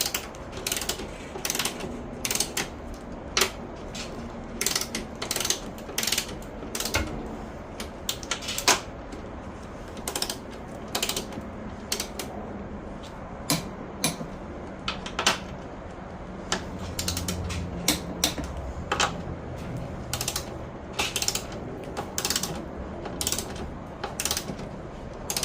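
A ratchet tightens the strut top mount bolts on a Toyota Highlander, producing repeated bursts of sharp clicking at close range across the whole stretch, with pauses between runs and no talk.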